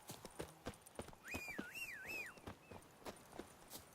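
A horse trots in The Witcher 3: Wild Hunt, Blood and Wine, with quick, regular hoof clip-clops and a whinny partway through, all fairly quiet.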